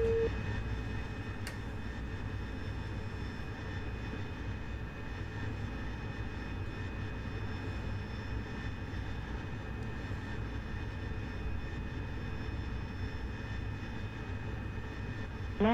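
The AV-8B Harrier jet in the DCS flight simulator drones steadily with its engine, a constant low roar and faint high tones, broken by a brief sharp click near the start, with no talking.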